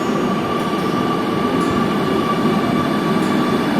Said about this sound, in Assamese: লেটছ গো আমি মেট্ৰ'টো উঠিম এতিয়া